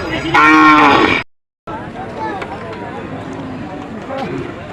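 A loud, close moo from a local-breed bull rings out, then after a brief gap comes a steady rumble of outdoor noise with people talking faintly.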